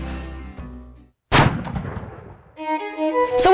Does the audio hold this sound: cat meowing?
no